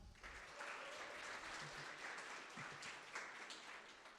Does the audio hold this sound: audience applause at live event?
yes